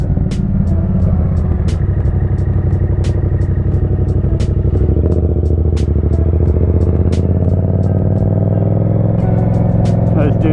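A Yamaha FZ-07 motorcycle engine hums loud and close at steady revs during a clutch-up wheelie, with a continuous rumbling drone marked by recurring sharp clicks or ticks throughout.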